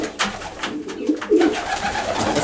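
Homing pigeons, a flock kept for flying together, cooing in soft repeated throaty calls, fairly close, with no talking over them.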